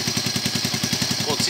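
A Yamaha SR 125 motorcycle engine idles close by with a steady, even chugging pulse and light mechanical clatter, running alone with no talk.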